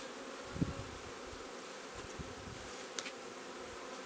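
Honeybees humming steadily at an opened hive during spring inspection of brood frames, a continuous close drone with a few brief knocks and clicks over it.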